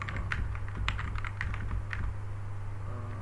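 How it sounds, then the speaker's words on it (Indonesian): Keys on a computer keyboard are tapped in an irregular run of quick, close clicks over a steady low electrical hum, with no one speaking. "Kita bisa ketikkan"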